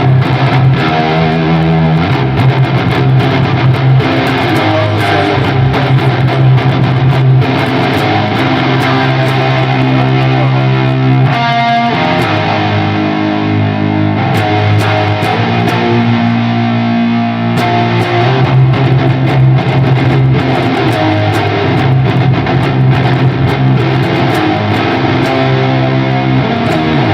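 An electric guitar played through an Earthquaker Devices Ledges reverb pedal rings out in sustained chords and notes with washy tails, loud and continuous.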